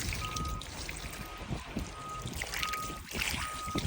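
Water from a hose trickles and splashes over a car fuel tank being rinsed after a soapy scrub during a Citroen Saxo rebuild, a steady wet dribbling close by with no talk.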